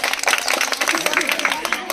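Audience applause for a prize won at a balloon-popping game, steady crowd clapping throughout with some voices mixed in, cutting off abruptly at the end.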